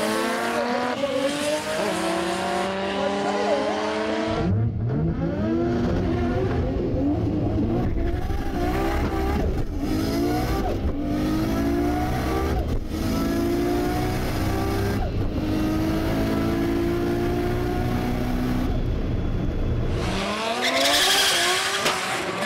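A Nissan R32 Skyline GT-R launches with too many revs, its engine climbing through repeated rising gear pulls while the tyres spin and squeal, loud and continuous before cutting off near the end.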